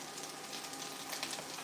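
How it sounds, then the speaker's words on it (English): Chopped onions saute in a pan with a soft, continuous hiss and sizzle, close but quiet, for a brief moment with no talk. "You're gonna saute that for about 2 minutes."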